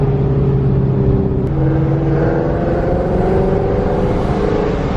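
A boosted, bagged widebody Shelby GT350 Mustang accelerating with its exhaust valves closed: a loud, continuous engine drone that steps to a new pitch at a gear change, then keeps climbing steadily.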